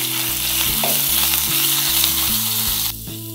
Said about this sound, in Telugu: జీలకర్ర, అల్లం పేస్టు, పచ్చిమిర్చి పేస్టు, కరివేపాకు వేసి వేయించుకుందాం.